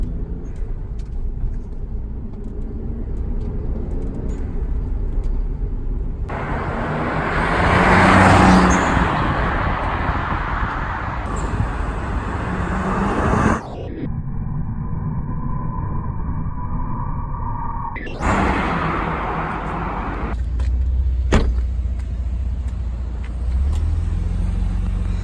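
A 1994 Toyota Supra RZ with twin turbos and a six-speed manual drives along a road in Japan, giving a steady engine and road rumble that swells midway, with a brief tonal break partway through.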